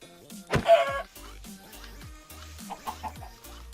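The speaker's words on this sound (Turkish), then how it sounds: "Tavuk. Aha gördüm tavuk." A Minecraft chicken clucks in short bursts with one louder squawk early on, over a quiet electronic game background; no talking.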